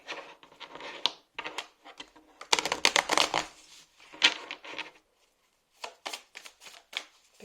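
Playing cards being handled, riffled and sorted by hand, a run of crisp, dry flicking and snapping bursts with short pauses between them, close and fairly quiet, no talking.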